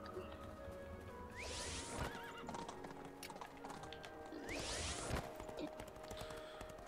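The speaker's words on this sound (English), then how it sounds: "You're on a warthog and I'm on a horse." In the video game Portal Knights, a horse gives two loud whinnies a few seconds apart, each with a rising-then-falling shape, while hooves clop underneath at a steady pace.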